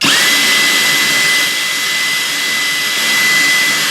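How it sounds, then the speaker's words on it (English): A power drill fitted with an attachment spins at high speed, loosening material with a loud, steady whine that holds constant throughout, close by and with no voices. "I'm just basically taking my drill with this on here"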